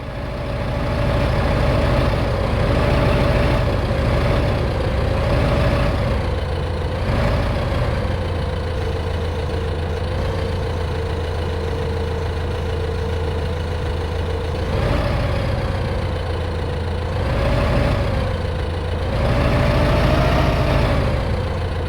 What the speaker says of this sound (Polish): jedziemy do góry tym ciągnikiem, tą, tym potężnym ciągnikiem